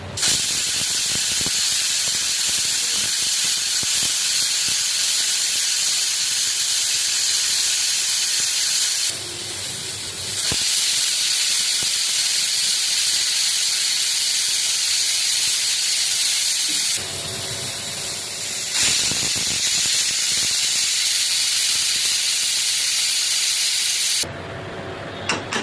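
A pressure cooker cooking garlic jeera rice lets out loud, sustained steam whistles, a harsh hissing blast that runs on for long stretches, broken by two brief pauses before it starts again, with no talking.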